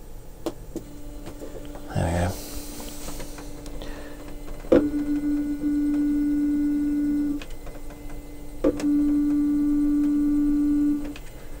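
A NEMA 17 stepper motor on a Bowden extruder suspension mount of a 3D printer runs in two steady humming tonal bursts after a brief knock and rustle, each several seconds long, close and fairly quiet, with no talking.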